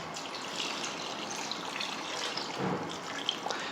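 Water from a mug splashes and gushes into a cooking pot of mutton for Peshawari namkeen gosht, a steady close pour with a soft trickle.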